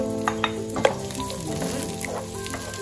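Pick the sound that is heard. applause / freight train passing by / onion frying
onion frying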